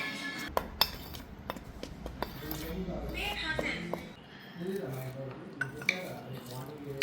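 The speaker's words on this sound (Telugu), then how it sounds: "మొత్తం ఒకసారి కలుపుకుందాం." A spoon clinks and scrapes around a bowl as potato cheese ball batter with salt and pepper is stirred together, irregular sharp taps and soft squishing under continuous talking.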